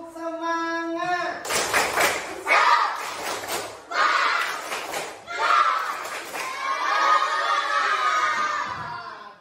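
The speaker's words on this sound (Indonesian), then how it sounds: "Oke, sekarang tepuk semangat." A class does a rhythmic group clapping chant: a single voice calls out first, then bursts of many hands clapping in patterned groups alternate with children shouting and chanting together, loud and close.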